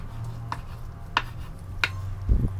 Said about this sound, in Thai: หั่นเลยครับ ห้ามหนามากนะครับเอาบางๆนะครับ